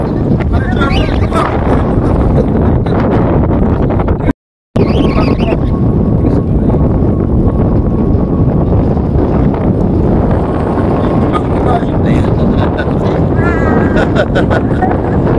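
Strong wind buffets the microphone on a hilltop in a continuous loud roar with a brief dropout, and a voice talks over it.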